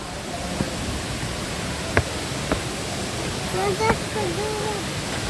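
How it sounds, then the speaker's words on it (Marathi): Rushing water from Vibhuti waterfall near Gokarna in coastal Karnataka gives a steady, broad hiss-like roar heard from a distance, with a few brief faint voices and tonal sounds over it. "पाण्याचा आवाज आपल्याला इथपर्यंत ऐकू येतोय."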